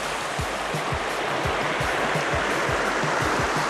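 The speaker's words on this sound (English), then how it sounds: "It's a lively little brook." Cook's Brook in Houlton, Maine, a lively little brook, gurgles and rushes steadily up close, a dense continuous wash of flowing water with no voices over it.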